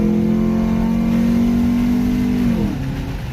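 A 2002–2006 Nissan Altima 2.5 engine fitted with a cold air intake revs loud and steady, its drone holding high before dropping off sharply near the end, heard close with no talking.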